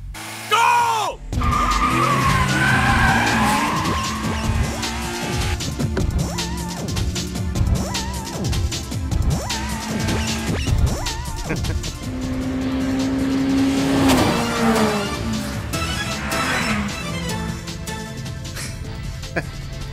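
A Toyota AE86 with a 4A-G engine and a Honda Civic EG6 with a B16A engine roar and climb in pitch accelerating from a race start, tires squealing and skidding close by, loud and continuous.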